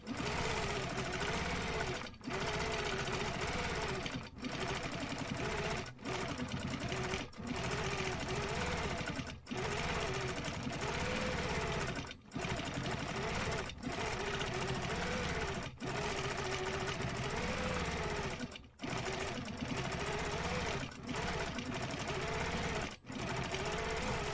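A sewing machine stitches quilting fill along a stencil design, running loud and steady at a fast even rate, broken by brief pauses every few seconds.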